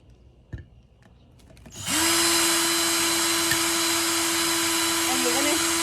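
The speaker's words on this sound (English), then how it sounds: "And then you just keep drilling until you get until you are completely through and your hole is made." A power drill fitted with a 1/4-inch bit starts up after a few faint handling knocks and bores steadily into a snow globe tumbler, holding a loud, even high whine close by until the end.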